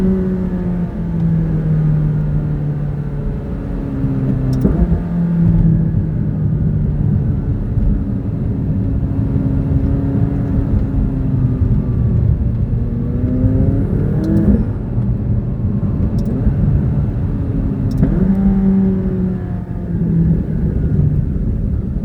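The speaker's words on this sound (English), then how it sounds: "Hope you guys enjoy the little exhaust" McLaren sports car driving with its exhaust revving, engine pitch climbing and dropping through several gear changes, loud and close throughout with no talk.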